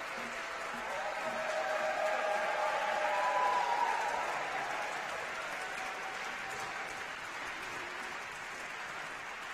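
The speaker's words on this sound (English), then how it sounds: "Let's also give a round of applause for our AXO students." Crowd applause at a Martin Luther King Jr. birthday tribute and celebration, a broad, distant wash of many hands clapping that swells slightly and then holds steady, with faint voices and cheers mixed in.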